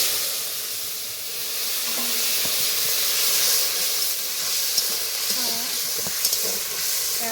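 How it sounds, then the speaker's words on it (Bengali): Whole cloves, bay leaves, dried red chilies and cumin seeds temper in hot oil, giving a loud, continuous hissing sizzle with scattered pops and faint background clatter. "তো তেলটা গরম হয়ে গেছে, এবার ফোড়ন দিয়ে দিব।"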